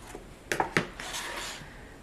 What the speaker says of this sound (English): I like to burnish on the inside of the bag because then I can give the best pressure.